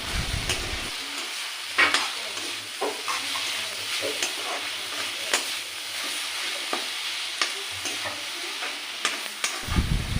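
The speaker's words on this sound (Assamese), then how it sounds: "মই আকৌ শাকখিনি ভালদৰে লাৰি দিম" Leafy greens stirred in a pan for an Assamese vegetable dish, with steady scraping and sizzling strokes running throughout at close range, and no voices present.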